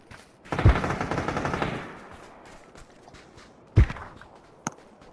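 Gunfire in PUBG: a dense burst of rapid automatic shots for about a second, then a single loud shot and a fainter crack, close and sharp with no talk.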